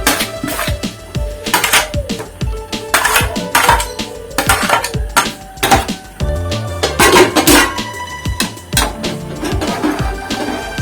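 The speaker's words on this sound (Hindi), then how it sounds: "साथ साथ चम्मच हिलाते जाएं ताकि ये लगे ना" A metal spoon repeatedly scrapes and clinks against a pot of carrot kheer simmering with boiled milk and rice, a busy run of sharp close taps and knocks with no talking.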